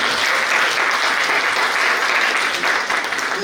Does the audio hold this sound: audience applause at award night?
yes